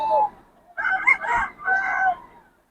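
A Lemon Sweater bull stag gamefowl crows close by, one long broken cock-a-doodle-doo with a short call before it, loud and clear over a quiet background.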